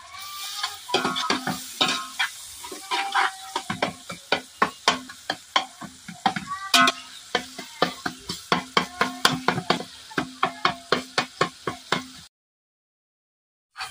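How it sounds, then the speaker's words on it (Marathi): Chopped onion, tomato and thecha (crushed chili relish) frying in a pan, large village-style batch, with repeated rhythmic scraping strokes of a spoon over a steady sizzle, close and fairly loud, ending in silence. "कांदा, टोमॅटो ठेचा चांगला भाजून झाला."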